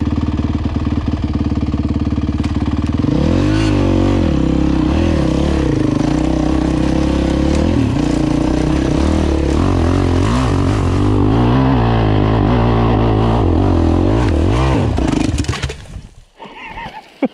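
A Honda 450X dirt bike's engine labours loudly and close up a steep hill, revving and rising and falling steadily under load, then cutting out abruptly near the end.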